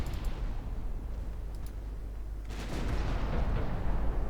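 Naval guns firing from warships in the game Ultimate Admirals: Dreadnoughts, a dense rumbling barrage of low booms that swells louder in the second half, with faint clicks early on and no talk.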